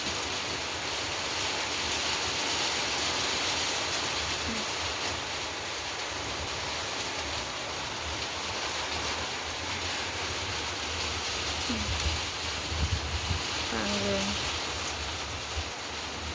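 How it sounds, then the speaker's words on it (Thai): Steady, dense rain noise fills the whole stretch, a constant wash with no letup, with a few faint voices briefly surfacing near the end. "ฝนตกแรงนะเนี่ย"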